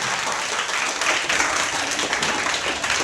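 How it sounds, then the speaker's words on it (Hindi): Audience at a primary-school Hindi quiz applauding a team's score, a loud, even burst of many people clapping together without pause. "जोरदार तालियों से स्वागत कीजिए।"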